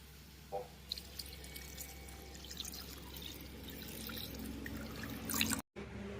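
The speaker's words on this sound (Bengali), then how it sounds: "জল দিয়ে দিয়েছি তরকারিতে" Water is poured into a curry of pointed gourd fried in ghee, heard as a faint splash and trickle with scattered drips over a quiet room hum. Sound cuts out briefly near the end.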